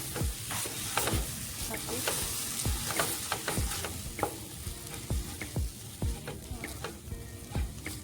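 Green peas tossed into a hot pan sizzle steadily while a spoon scrapes and stirs them in repeated strokes, close and continuous with no talking.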